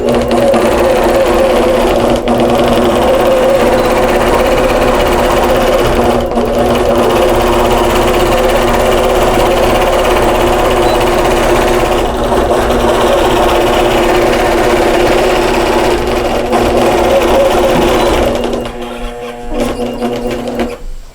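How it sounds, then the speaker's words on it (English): An APQS long arm quilting machine stitches a face mask outline into fabric, its motor and needle giving a loud, continuous, close mechanical whir that runs steadily for about eighteen seconds before easing off. "I'm gonna hit the sew button, and it's gonna start by sewing the outline"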